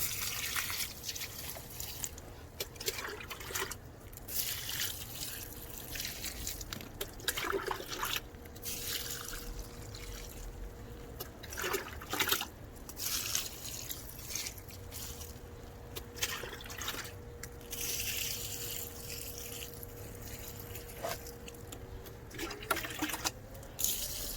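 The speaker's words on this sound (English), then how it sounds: "I just keep on watering until I can hear the water dripping down in the section below" Quiet trickling and scattered drips of water patter irregularly against a soft background hum, faint and nearby, as watering drains through a self-watering garden bed, with no one speaking.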